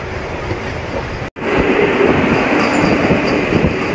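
Narasapur–Guntur passenger train running through Godavari farmland, a loud continuous rolling rumble of carriages on the rails with a momentary dropout, then steady noise with faint wheel squeal.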